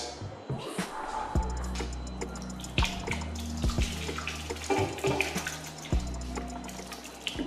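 Blended groundnut soup splashes and trickles into a pot, with intermittent pouring and dripping sounds and faint clatter of handling.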